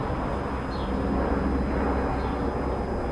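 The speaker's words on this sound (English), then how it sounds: "Aeroplane going over, so you won't be able to hear anything." A distant aeroplane passes overhead as a steady low rumbling drone outdoors, continuous and fairly even throughout, with no talk.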